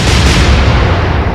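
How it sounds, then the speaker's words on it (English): Three warship main gun turrets fire a salvo in a naval strategy game, a loud continuous roar with heavy low-end rumble filling the whole clip. "3 turrets firing this time."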